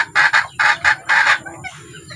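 Talisayin hens and a rooster in a backyard coop near laying time give three loud, close bursts of crowing and clucking, then a softer trailing cluck.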